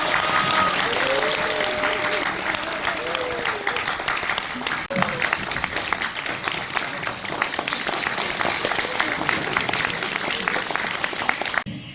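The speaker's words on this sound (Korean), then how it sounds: "여러분 방산 노상진 선생님을 큰 박수로 맞이해 주시기 바랍니다." An audience at a book concert for author Bangsan Noh Sang-jin applauds steadily and loudly for about twelve seconds to welcome him, with a brief voice near the start and a dip midway.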